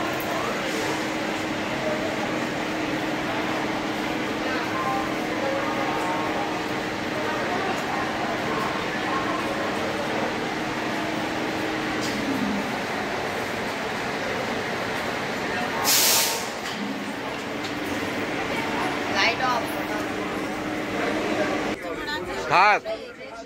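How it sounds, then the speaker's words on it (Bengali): Steady rumble and rushing noise of a Tarakeswar local train out of Howrah, carrying on unbroken, with a short hissing burst midway and a clatter near the end; people talk throughout the carriage. "আমরা হাওড়া থেকে এখন ট্রেনে উঠলাম তারকেশ্বর লোকাল"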